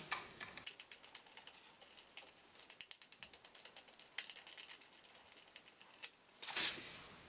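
A ring screwed by hand onto the threaded rod of a rise-and-fall pottery ceiling light, giving a faint, close run of rapid ratchet-like clicks for several seconds and a brief louder scrape near the end.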